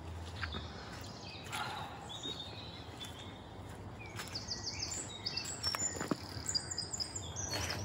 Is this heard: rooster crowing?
no